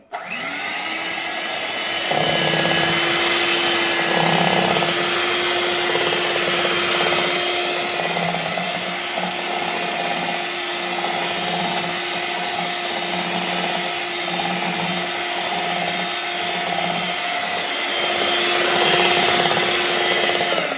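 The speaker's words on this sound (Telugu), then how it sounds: "బ్లెండ్ చేసుకో ఇప్పుడు" A blender motor whirs loudly and steadily while blending batter with milk, a continuous close drone holding for about twenty seconds with slight shifts in pitch, no talk.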